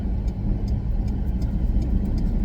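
A truck crawls through heavy traffic, its engine giving a steady, loud low rumble heard from inside the cab with no pauses or speech.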